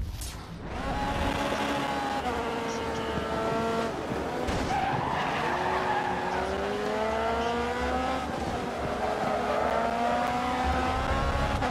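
A race car spins out in the racing game GRID Autosport, its engine whining through steady harmonic pitch sweeps as tires skid and squeal. The sound is loud and continuous for about eleven seconds, with no talking over it.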